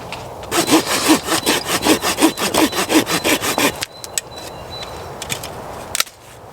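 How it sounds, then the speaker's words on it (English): Steady back-and-forth strokes of a hand saw cutting small pieces of wood for tinder at a woodland camp, close and rhythmic, then stopping, followed by a few light knocks and handling noises. "Don't know why this is in my sawing pile."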